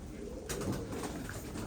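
Pigeons coo softly at close range, a low throaty murmur over a noisy background.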